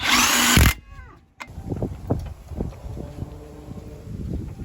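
A power tool tightens a salvaged part on a Ford Crown Victoria, opening with a loud, brief high whir that cuts off abruptly, followed by quieter clunks and handling noises.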